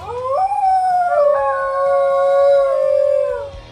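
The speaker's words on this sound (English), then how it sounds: "Number 10. Dingo." A dingo's long, drawn-out howl, loud and continuous, gliding upward then holding a wavering tone before tapering off, alone over faint low background sound.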